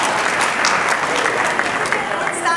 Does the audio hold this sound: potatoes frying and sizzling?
no